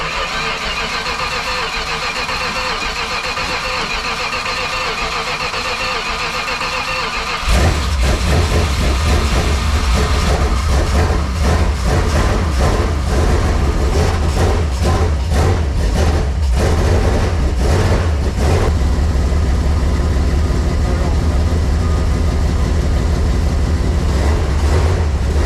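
A Jeep CJ7 rat rod engine, built up to about 400 hp, cranks and fires after a stretch of steady background noise, then settles into a loud, rough, continuous idle that stays close and strong to the end.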